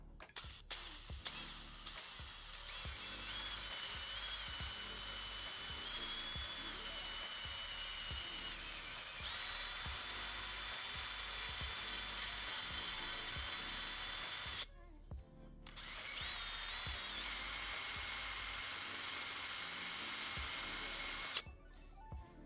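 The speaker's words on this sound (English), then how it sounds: "So I'm hoping this drill isn't too loud for you." A power drill cleaning old glue from the outer and inner edges of a Cerwin-Vega RE Series speaker cone during a rebuild, whining steadily and loudly with two brief stops and restarts.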